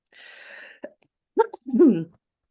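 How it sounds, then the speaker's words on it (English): A few close coughs and throat-clearing sounds, short and separated by brief pauses. "I got a bit of a cough."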